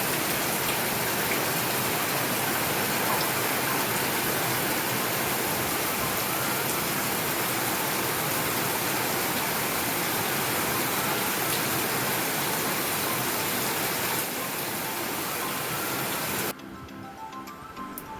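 Heavy rain pours steadily in Bhubaneswar, a dense, loud hiss of drops beating on surfaces without a break. Near the end it turns abruptly quieter and more muffled.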